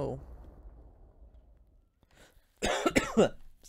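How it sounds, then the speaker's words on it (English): A single sharp cough breaks out close by after a few quiet seconds, loud and abrupt with a rough, throaty burst. "Sorry, I had to cough."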